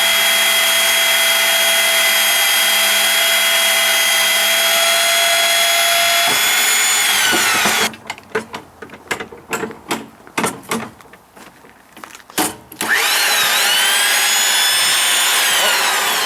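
A pipe cutting and threading machine handling up to 1-inch pipe on a propane installation job runs with a steady whine, then cuts into choppy bursts of grinding and clunking before returning to a continuous motor hum.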